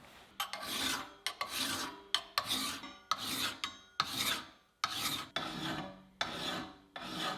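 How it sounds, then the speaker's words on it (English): A hand file rasps across a metal blade edge in about nine steady, evenly spaced strokes, each a bright scraping burst with short pauses between, close and clear with no talk. "I'm going to file this down, get it all sweet and tight"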